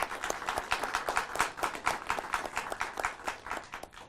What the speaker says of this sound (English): A round of applause for Mr. Wale